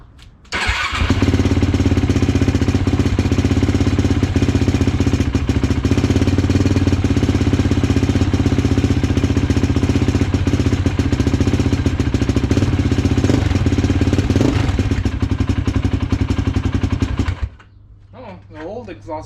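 A loud Yamaha YFZ450 ATV engine with a new exhaust idles with a rough, rapid putter for a long stretch close by, then cuts out, leaving quiet background.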